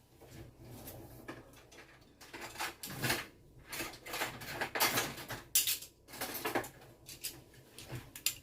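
Metal spoons handled in a home kitchen while cleaning utensils, producing repeated close clinks and scraping rattles in irregular bursts, with no talk over them.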